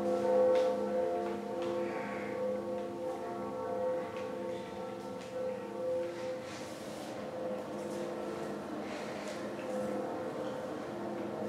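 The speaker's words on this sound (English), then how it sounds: "let's pull the lever and ring the second bell" A large bell in the video game Dark Souls Remastered rings with sustained, resonant tolling tones under a low droning game ambience, continuing steadily without speech.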